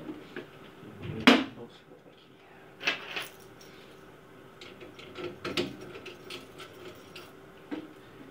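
ATM cash cassette slid back into the machine, a few scattered mechanical clunks and scrapes with one sharper knock early on, close and moderate in level, with faint voices in between.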